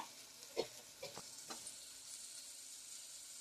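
Snake gourd kootu is stirred in a pan with coconut, a faint hiss of frying under a few soft scraping strokes, quiet and close.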